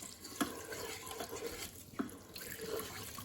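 Liquid is poured into a pot of gumbo, making a quiet, steady splashing trickle with a couple of small clinks, close by and with no talking.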